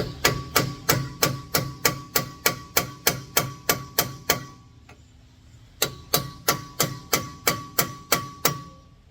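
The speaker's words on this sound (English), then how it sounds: "Just getting a chisel lightly in between the flange here." A hammer taps a chisel into the pinion flange of a Ford Transit to split it, a close run of evenly spaced metallic strikes that pauses briefly before another steady series.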